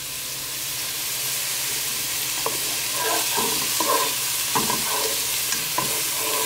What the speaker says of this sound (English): So I'm gonna let that saute in there and let it get nice and cooked